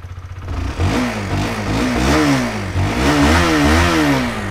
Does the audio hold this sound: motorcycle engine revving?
yes